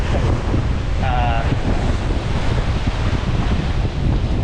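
Ocean waves crash against a sea wall at Prachuap Khiri Khan beach, with heavy wind buffeting: a continuous loud surging wash and rumble with gusty noise throughout.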